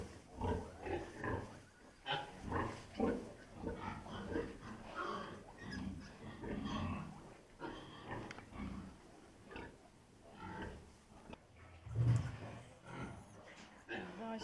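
A sow with piglets gives repeated low grunts and snuffles at close range, mixed with squeals and rustling, while a person talks quietly nearby.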